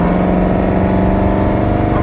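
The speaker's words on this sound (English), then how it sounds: "This exhaust sounds amazing." Jeep Grand Cherokee Trackhawk, tuned to about 1000 hp, driving on a street with a steady, loud exhaust drone and a deep engine rumble that holds throughout.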